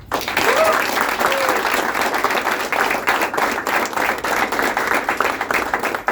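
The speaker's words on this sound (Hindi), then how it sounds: "जोरदार तालियां संजय सहाय जी के लिए जिन्होंने ये नाटक लिखा।" Theatre audience applauding the writer of a comedy play, dense sustained clapping from a large crowd filling the hall, steady and loud throughout with faint voices mixed in.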